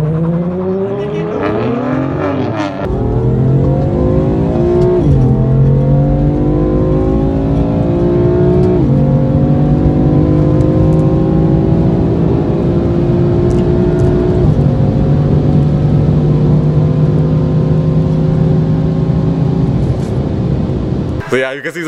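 BMW M4 engine revving hard in repeated climbing sweeps, each rising in pitch then dropping as gears change, loud and close over about twenty seconds.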